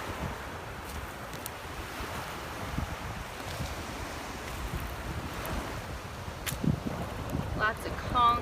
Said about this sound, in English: Hopefully it's not too windy for you guys, because it is breezy here today